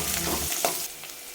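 Onions with cinnamon, cloves, bay leaves and cardamom frying in three spoons of oil in a kadai, a steady close sizzle with a few stirring scrapes, no voices.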